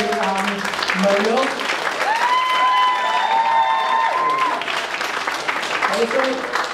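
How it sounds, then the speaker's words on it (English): Audience applause at a Zanshin presentation, steady clapping running under a voice and a brief tonal sweep in the middle. "Nice round of applause as well to Alison and Mario."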